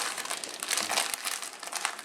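A plastic bag being rolled up by hand into a makeshift pastry bag for filling deviled eggs, giving close, continuous crinkling and crackling with brief louder crunches.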